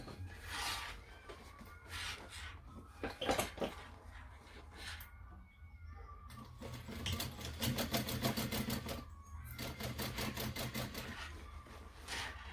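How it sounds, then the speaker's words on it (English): A sewing machine stitches down a seam on a small handmade backpack, running in bursts of fast rhythmic whirring with a few short pauses, close and steady throughout. "So I'm just going to sew that down"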